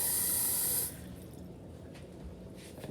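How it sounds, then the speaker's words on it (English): Water from a sink tap runs into a coffee maker's reservoir for under a second, a quiet bright gush that stops abruptly, leaving faint room noise. "Go over to your sink and fill up the water to about the level of the nub on your coffee maker"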